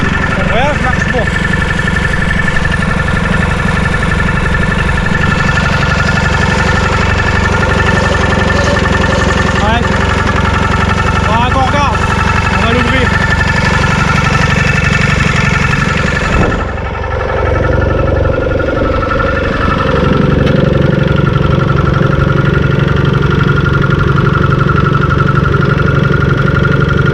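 Massey Ferguson 821D tractor with a Hanomag two-stroke diesel engine idling loud and close, a steady throbbing rumble that dips briefly midway then resumes, with people talking faintly over it.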